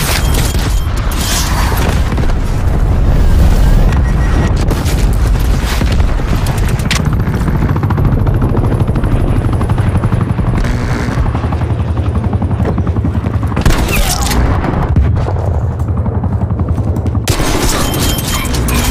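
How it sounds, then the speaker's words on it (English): A hostile attack helicopter in the video game Call of Duty Cold War, with loud, continuous rotor drone and engine roar, with bursts of gunfire, explosions and mechanical clatter mixed in. "Hostile attack helicopter inbound."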